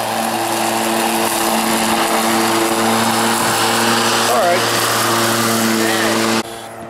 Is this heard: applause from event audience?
no